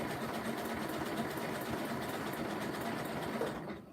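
A sewing machine runs continuously, stitching zigzags on a rope basket, with a steady close mechanical whir and rapid needle chatter that eases off at the very end.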